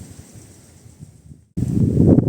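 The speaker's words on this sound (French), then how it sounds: "Désolé, mais il y a beaucoup de vent là." Strong wind blows across the microphone on a seaside hilltop lookout at Hua Hin, a rumbling gusty roar that drops briefly and then returns louder and heavier.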